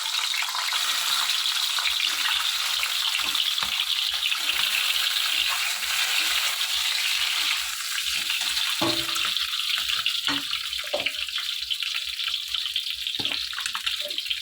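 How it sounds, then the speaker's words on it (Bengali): An egg fries in a pan, seasoned with salt and turmeric, with a continuous sizzling hiss throughout and some scattered clinks and knocks nearby as it cooks, while a curry gravy simmers on the side. "এইদিকে তরকারির ঝোলটা ফুটছে তার মধ্যে আমি ডিমটা ভেজে নেব"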